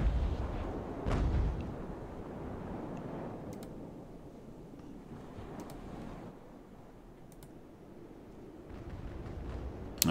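Naval cannon fire from sailing warships in the game Ultimate Admiral: Age of Sail, deep booming blasts with a heavy rumbling tail, one sharp report near the start and softer distant thuds amid a windy low roar.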